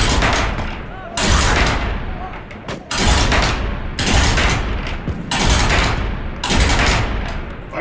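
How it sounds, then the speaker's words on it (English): Union artillery volleys in the Musket Battles Antietam game, a series of loud, rolling cannon booms and crackling fusillades arriving in repeated bursts about every second, dense and close. "And the Union artillery opens fire."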